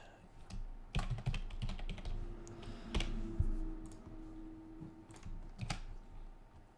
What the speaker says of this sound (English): Typing too quick